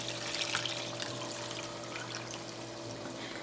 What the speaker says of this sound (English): And now I'm gonna add water.